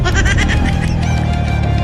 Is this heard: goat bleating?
yes